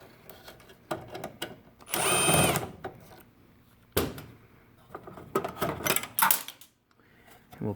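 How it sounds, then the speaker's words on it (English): Power drill whirring in a short burst to back out a screw from the fan of a Val6 Daystar/MPX heater during a tune-up, surrounded by close clicks and handling clatter. "we'll go ahead and remove this screw as well"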